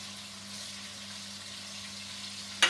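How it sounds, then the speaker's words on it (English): Stuffed, wrapped chicken breast sears in hot oil in a pan, giving a steady, soft, even sizzle and hiss throughout, quiet and unbroken by talk, with a brief clatter at the very end. "Now, the oil is hot enough. So I'm just going to put it in, and this is just purely to sear the dish."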